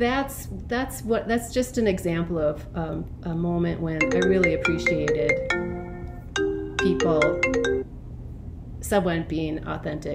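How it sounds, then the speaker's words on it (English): Mobile phone ringing with a tonal melodic ringtone, clear tones repeating under and between someone talking. "That was my phone ringing."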